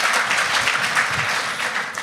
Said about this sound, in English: You see, the people clapping